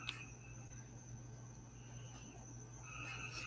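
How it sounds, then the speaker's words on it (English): Crickets chirp outdoors at night in a steady, faint, continuous trill, layered with a couple of high-pitched insect tones and a low constant hum underneath, with no voices. "Do y'all hear the crickets?"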